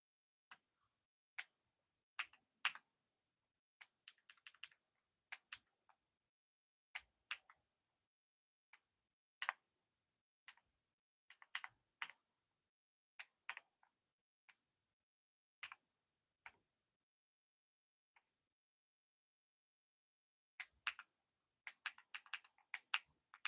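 Keys on a wireless RGB computer keyboard being modded are tapped in quick scattered clicks, some single and some in short bunches, ending in a dense rapid burst, close and crisp with silence between.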